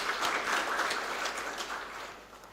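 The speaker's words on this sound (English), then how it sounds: "Let us celebrate them with a clap." Applause from an audience at a university scholarship program commissioning ceremony, a steady wash of clapping that stays fairly even and then thins slightly toward the end, with no talk over it.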